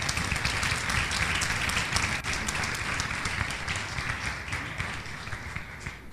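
A church congregation applauds steadily and loudly for about six seconds, a dense wash of clapping with a few faint voices mixed in.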